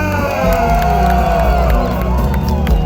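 A loud crowd at an outdoor market singing contest cheers and whoops continuously, with music playing underneath and a few shouts rising above the din.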